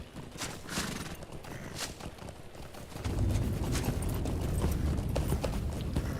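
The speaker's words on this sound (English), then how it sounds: "I was just making sure I didn't have, any horse sounds filtered." Horse sound effects from a Lord of the Rings video game, with clip-clopping hooves and whinnies, growing louder and denser about halfway through, with no talk over them.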